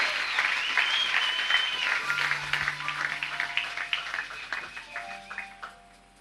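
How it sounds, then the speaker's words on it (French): A church congregation applauds for Jesus at a Sunday service, dense clapping that thins toward the end into distinct individual claps, with held keyboard tones sounding underneath. "Acclame bien pour Jésus"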